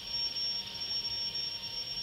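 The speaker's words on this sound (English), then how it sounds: "That noise is caused by the machines which carry them through space." A steady, thin, high-pitched electronic whine, said to come from the Sensorites' space machines in a classic Doctor Who episode. It holds continuously over a faint hiss with no talking.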